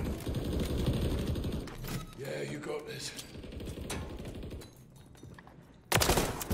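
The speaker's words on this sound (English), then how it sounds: "Oh, he's shooting at me." Enemy gunfire in Modern Warfare III multiplayer, rapid bursts of automatic shots at moderate loudness, easing off midway before a sharp loud burst near the end, with a player talking in between.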